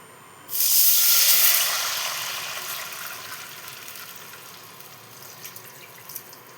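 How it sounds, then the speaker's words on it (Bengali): Water poured into a pan of fried panch phoron for mango pickle, a sudden loud hissing rush that swells quickly and then slowly fades into a soft simmer with small pops. "এবার এর মধ্যে আমি জল দিয়ে দেব।"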